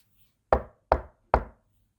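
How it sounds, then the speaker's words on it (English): Three sharp knocks on a door come in an even rhythm, each a crisp close thud that fades quickly, with silence between them. "there is another knock at the door"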